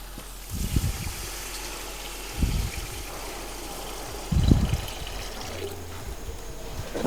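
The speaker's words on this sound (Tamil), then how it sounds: "இப்போ நம்ம ஒரு ரெண்டு லிட்டர் தண்ணி சேர்க்க போகிறோம் இதில்" About two liters of water is poured in a few short gushing bursts, splashing into a cooking pot of Ramadan nombu kanji, against a quiet background hum.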